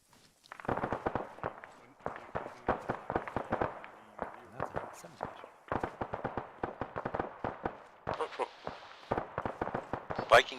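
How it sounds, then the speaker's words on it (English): Rapid bursts of gunfire in an Arma military game session crackle in quick clusters throughout, with brief pauses between volleys and a hissing burst near the end. "Gunfire northeast, 50-ish."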